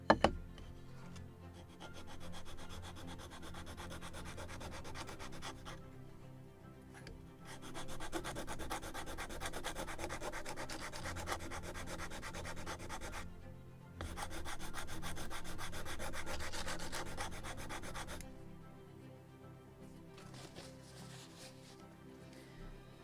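Wood is sanded by hand for a model ship rudder on a 1776 gunboat Philadelphia kit. The close, steady, rasping back-and-forth strokes come in three long bursts with short pauses between them.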